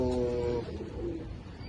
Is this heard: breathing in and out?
no